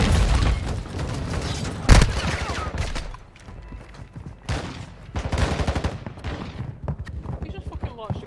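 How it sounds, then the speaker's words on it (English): Warzone gunfire and blasts, with bursts of rapid shots, a sharp loud boom near two seconds and further heavy volleys later, loud and close over lingering game noise. "He just fucking launched a grenade at me"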